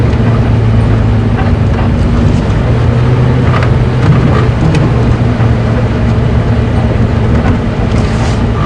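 A safari game-drive vehicle motoring along a dirt track at Djuma Game Reserve, its engine a steady, loud low rumble throughout with no voices.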